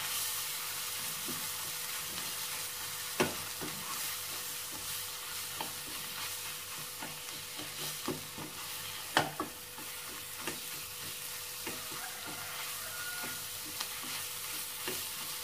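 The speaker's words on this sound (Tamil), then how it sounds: "போட்டு நல்லா அந்த எண்ணெயிலேயே கொஞ்சம் வதக்கி விட்டுடலாம்." Red chili powder sautéing in hot oil for a home-cooked dish, with a steady soft sizzle under repeated spoon scrapes and stirring taps, a couple of sharper knocks against the pan standing out.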